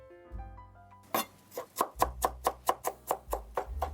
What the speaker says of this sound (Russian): Режу пучок укропа